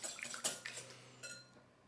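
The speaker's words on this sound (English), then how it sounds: "Just give it a good little whisk here." An egg whisked in a medium bowl for apple muffin batter, a quick run of close, bright clinks and scrapes of the whisk against the bowl, with no talking.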